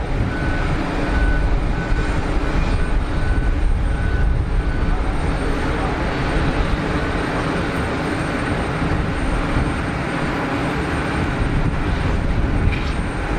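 An EgyptAir Boeing airliner at Geneva Airport gives off a loud, steady, broadband jet roar that holds evenly throughout and drowns out everything else.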